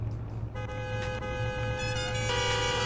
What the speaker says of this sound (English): This guy's literally honking his horn like a maniac